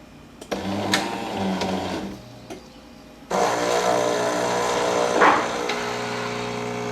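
A Jura Capresso J9 coffee machine pauses after frothing milk, giving a few soft clicks and knocks. It then starts a louder, steady mechanical pumping hum as coffee dispenses close by.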